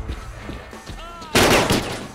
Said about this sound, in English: they're shooting at the bandit!